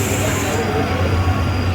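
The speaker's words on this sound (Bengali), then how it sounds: "ট্রেন এসে গেছে এবারে ট্রেনে করে বাড়ি" A train pulls into a station with a loud, continuous low rumble and mechanical noise filling the short stretch, cut off abruptly at the end.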